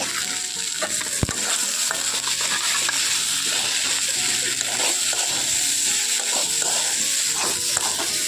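Spices and potatoes stir-fried in a pan for a vegetarian pumpkin chokka with soaked chickpeas and grated coconut, giving a steady loud sizzle with frequent scraping stir strokes and one sharp clank near the start.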